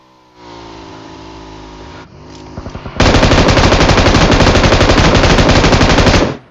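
An M249 machine gun fires in a video game: loud, dense, sustained automatic bursts that keep going without a pause, preceded by quieter in-game ambience and a few short thumps.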